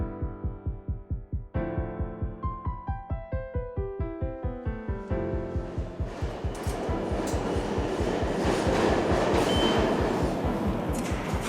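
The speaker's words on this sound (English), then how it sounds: "find themselves on a subway train to go to school, work, or other places" New York City subway train in Brooklyn, starting with a rapid, regular clatter of wheels over rail joints and rising tones as it accelerates, then swelling into a loud, steady rumbling roar with no talk.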